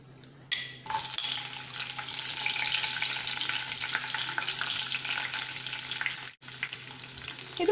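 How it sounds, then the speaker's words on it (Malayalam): Sliced onions frying in hot oil toward golden brown for a pressure-cooker beef biryani, a steady loud sizzle starting abruptly and holding with faint stirring, one brief dropout near the end. "നമുക്ക് അരിഞ്ഞു വെച്ചിരിക്കുന്ന സവോളയും ഗോൾഡൻ ബ്രൗൺ കളറിൽ മൂപ്പിച്ചെടുക്കാം"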